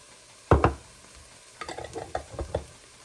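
Garlic dropped into a hot pan, a sharp burst of sizzle and clatter followed by quieter scraping stirs and light pan knocks, close and without talk.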